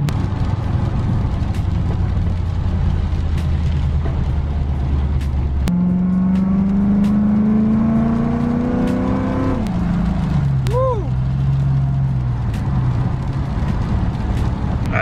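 A car fitted with aftermarket headers and exhaust rumbles steadily, then revs up in a rising, loud, raspy sweep, drops back, and settles into a lower drone, recorded up close throughout.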